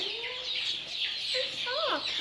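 Fluffy silkie chicks give a few thin, rising and falling peeps, fairly quiet and close, with a soft background hiss between calls.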